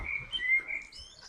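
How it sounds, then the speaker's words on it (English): A songbird beside a canal at Berkhamsted, Hertfordshire sings a brief run of thin, high whistled notes, moderately faint and outdoors, with no voices over it. "Listen to that beautiful bird singing."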